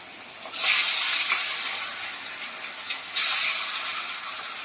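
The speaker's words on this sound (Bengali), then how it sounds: "এদিকে মাছ ভাজা হচ্ছে" Pieces of fresh fish frying in hot oil in a wok: a steady, close sizzling hiss that surges loudly twice, then settles back to a constant crackle, with no talking.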